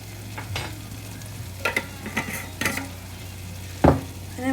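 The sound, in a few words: sauteing chicken masala with turmeric in a pan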